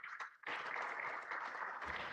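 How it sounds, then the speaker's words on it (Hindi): Brief burst of applause at a railway awards ceremony as the West Central Railway general manager receives a shield, a dense crowd of clapping hands rising sharply and holding steady for about two seconds. "कृपया जोरदार तालियों से अभिनंदन कीजिए"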